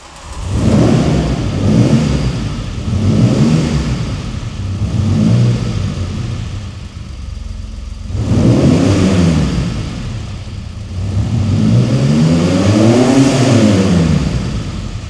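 A Renault Alpine A310 V6, an uprated S version over the original 150 PS car, revving repeatedly: throaty engine swells rise and fall in waves, with a brief drop to near idle midway, loud and close with no talking.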